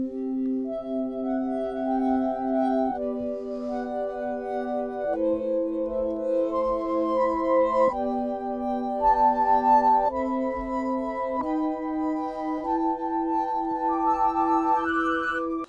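A kitchen sample instrument built from the sound of a turned glass plays a slow sequence of sustained, bell-like pitched notes, each held for a second or two before shifting to the next, soft and clean.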